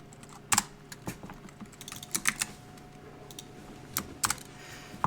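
A computer keyboard being typed on in quick bursts of clicky keystrokes with short pauses between them, close and fairly quiet, while someone enters code in a programming editor.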